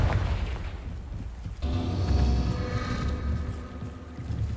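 Confringo fire spell bursting in Hogwarts Legacy, a sudden loud low boom that swells and crackles, then lingers as a rumbling roar for several seconds with no talk over it.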